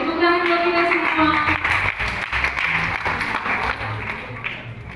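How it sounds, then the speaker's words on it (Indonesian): Applause from a crowd at an outdoor church Christmas gathering in Purwakarta, moderately loud and mixed with talking and background music. "Boleh tepuk tangan buat kita semua."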